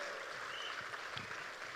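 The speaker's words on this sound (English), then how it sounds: "How about another big round of applause for these moms the night before Mother's Day?" At a JDRF charity gala the night before Mother's Day, the crowd gives steady, soft applause, a continuous, even wash of clapping heard from a distance.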